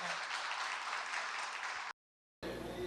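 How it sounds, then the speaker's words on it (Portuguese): A lecture audience breaks into dense, steady applause, a wash of many hands clapping that cuts off abruptly and then resumes. "uma salva de palmas para Tássio"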